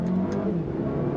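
2025 Alfa Romeo Tonale Tributo Italiano SUV accelerating from a roll in first gear, a steady mid-pitched engine drone heard from inside the cabin, loud and continuous.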